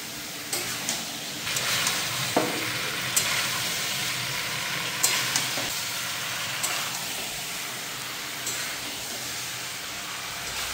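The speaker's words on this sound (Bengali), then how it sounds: "এখন আমি মশলার সাথে কুমড়োটা ভালো করে কষিয়ে দিই।" Pumpkin being stir-fried with cumin, chili and turmeric powders, a steady low sizzle with occasional scraping clicks of the spatula, fairly faint and with no talk.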